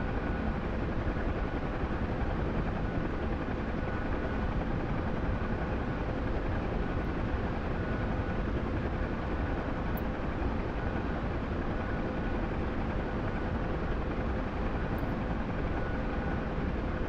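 A Huey helicopter flying in formation gives a steady, loud rotor and engine drone that holds unbroken throughout, heard from inside the aircraft with no talk.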